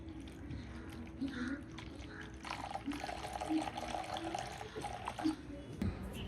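Faint trickle of water pouring into a container set out for birds at a window, soft and steady with quiet background noise and a short clink near the end.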